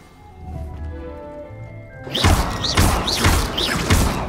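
Chinese Chomping Cabbages in Hogwarts Legacy attacking a training dummy: after a quiet lead-in, a run of heavy thuds and crunching smacks, about four loud strikes in quick rhythm.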